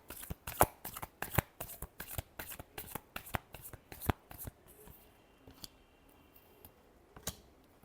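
A deck of cards is riffled and bridged several times in quick, crisp bursts up close, then a few slower, lighter taps and slides as the shuffling winds down, no talking.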